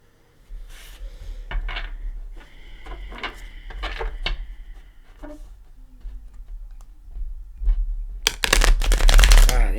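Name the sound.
playing cards being shuffled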